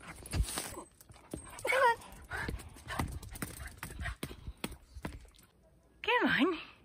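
A small dog whines and yips in short high bursts, the loudest near the end, amid clopping hooves and scuffling outdoors, with a person talking nearby.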